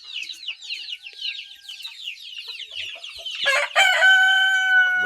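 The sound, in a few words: Australorp chickens and chicks clucking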